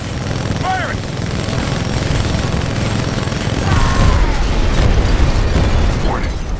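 Explosions and heavy weapon fire in the video game Titanfall 2, a dense, continuous rumble of blasts with voices calling out over the noise.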